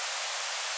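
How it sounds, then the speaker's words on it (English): Harsh white noise from the Ableton Operator synth fills the whole moment as a steady, loud, bright hiss with no low end and no voices. "I just have this white noise from Operator."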